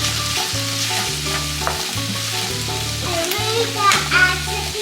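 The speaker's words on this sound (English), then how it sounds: "Then we're just gonna mix this real quick." A cilantro sauce for shrimp tacos being stirred and mixed, with a loud, steady sizzle of frying and rhythmic scraping strokes close by, under a low background hum.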